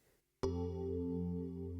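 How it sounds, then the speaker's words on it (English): A classic 80s DX7-style FM keys patch from the Arturia DX7 V synth plays one sustained chord with a bright bell-like attack and a smooth, steady tone, heard alone after brief quiet. "I decided to go for an absolute classic DX7 80s kind of keys patch,"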